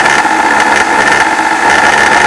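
A kitchen mixer grinder with a glass jar switches on and runs with a loud, close, steady high-pitched motor whine and buzz, with no talking over it.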